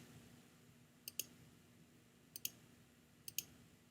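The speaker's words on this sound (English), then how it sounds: "every once in a while I click the mouse" A computer mouse clicking during photo editing: three quick double clicks spaced about a second apart, close and crisp over a quiet room hum.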